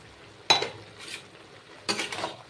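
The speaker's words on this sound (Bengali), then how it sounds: "দিয়ে এবার আরেকটু নেড়ে চেড়ে দেবো" A spoon scrapes and clatters twice in a pan of ash gourd curry with dried shrimp and spices, two short clear stirring bursts against a quiet kitchen background, no talking.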